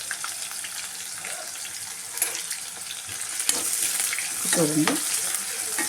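Onions and green chillies frying in a pan give a steady, close hiss with occasional stirring scrapes and small clatters; a brief voice is heard near the start.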